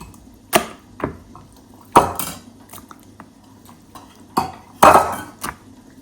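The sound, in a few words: mixing chicken with spice marinade by hand in a bowl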